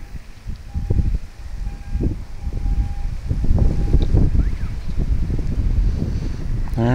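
Strong wind gust buffeting the microphone at an outdoor F5J electric model glider contest in Kulmbach, Germany, a loud rumbling roar that builds and holds steady throughout with no speech.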